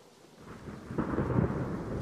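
A deep thunder roll swells from silence into a broad, heavy rumble mixed with steady rain, building louder over two seconds with no voices.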